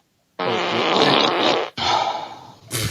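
Playback of fart sound effects from an Alexa smart speaker: a long, loud, rumbling fart, a brief gap, then a second one, and the start of a third at the end.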